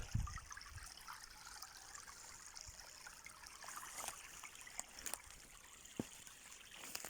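Steady flowing water of the Sokyryanka river runs throughout, a constant gentle rush with a few faint clicks and splashes, fairly quiet and with no voices.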